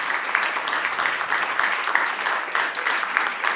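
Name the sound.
applause for finalists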